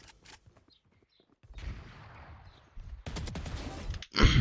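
Gunshots in an aim-training video game, quiet scattered shots followed by a denser burst of rapid fire and a sharp loud report at the end.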